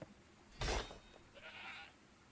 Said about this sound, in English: I heard a goat sound there briefly.